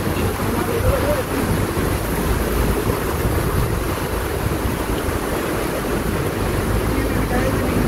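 Muddy, swollen Cikao river after rain, a loud continuous broadband rush of flowing water with wind buffeting the microphone throughout.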